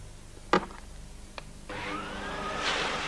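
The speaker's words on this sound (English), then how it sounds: "the new technologically advanced Hoover Aquamaster" A 1988-1989 Hoover Aquamaster vacuum cleaner and carpet shampooer starts up after a couple of soft knocks, its motor settling into a steady whirring hum that carries on to the end.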